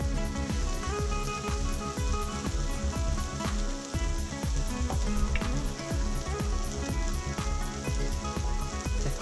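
Potatoes frying in a hot pan until crispy, a steady dense sizzle with crackling pops running continuously and fairly loud throughout, no talking.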